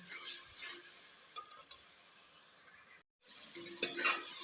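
Cloves and bay leaves fry in hot oil in a pot for white pulao, producing a soft, steady sizzle with occasional spoon scrapes and a short break near the end, fairly quiet and without voices.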